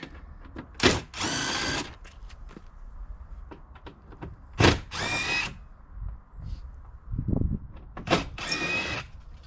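A power drill backs screws out of a vehicle fender: three loud whirring bursts with quieter pauses and softer handling noises between them, close up with no talking.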